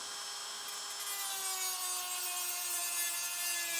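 A Dremel rotary tool works on a wooden crossbow, giving a continuous high whine with slowly sliding pitch over a faint rubbing grind, heard from a little distance with no talk.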